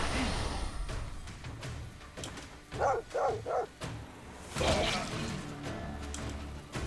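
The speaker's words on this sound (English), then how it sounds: "there's a war dog" A war dog in Stoneshard barks three times in quick succession, then once more a moment later, amid thuds of combat and quiet background game sound; a voice is faintly present.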